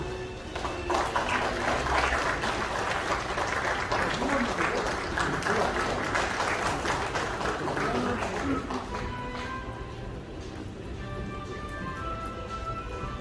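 Audience clapping at an automotive industry award ceremony, the 19th Automobile Day celebration in a Seoul hotel hall, sustained and steady applause filling the room for about thirteen seconds without a break.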